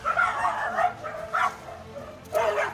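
Colony dogs bark and yelp during a confrontation with a leopard, several sharp, agitated barks in bursts with a whimpering edge, close and fairly loud.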